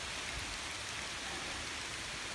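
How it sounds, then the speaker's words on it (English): Rain falls steadily in woodland near old forest cabin ruins, a dense, even hiss of drops that holds at a constant level with no voices. "I'm going to have to get up out of here because it's really starting to rain. Can you hear it?"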